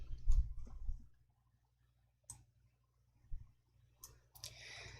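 A computer mouse clicks a few times, faint and sparse, in short isolated taps separated by quiet pauses, with a soft murmur of a voice near the start.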